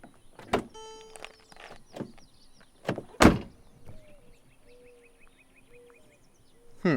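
A Mercedes E550 car door slams shut with a solid thump, followed by another lighter clunk, amid soft interior clicks and a faint whirring motor of the seat belt presenter.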